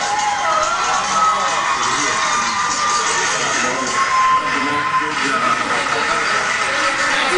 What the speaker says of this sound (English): Hey, applause!